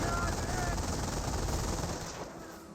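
Sustained MG42 machine gun fire in the Company of Heroes 1 World War II strategy game, dense continuous bursts with battle noise, fading slightly toward the end.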